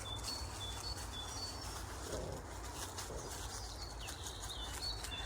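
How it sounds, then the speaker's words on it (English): Faint birds chirp and call in the distance, scattered high tweets over a soft, steady outdoor background. "But there's just birds everywhere, singing their hearts out."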